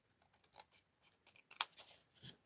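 Scissors cutting through scrapbook paper during a craft project: a quiet series of close, crisp snips and rustles, with one sharper snip standing out, no talking.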